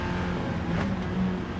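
Suzuki Swift road car engine in Gran Turismo 7, racing against Gr4 race cars in wet and dry conditions, a steady low-revving drone held at modest, even loudness throughout with no talk over it.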